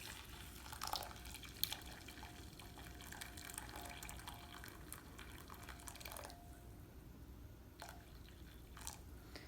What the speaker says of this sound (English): I boiled some water, and I'm just going to add some water to the tea bags.